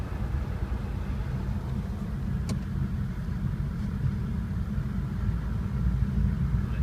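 A pickup truck engine runs steadily as the truck creeps forward, a low, even rumble with a faint click partway through.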